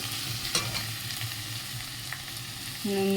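A vegetable curry with ground mustard and spices fries in a pan with a constant sizzle and a few soft scrapes of stirring. A brief tonal hum enters at the very end.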